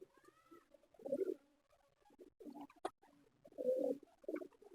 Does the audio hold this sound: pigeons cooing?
yes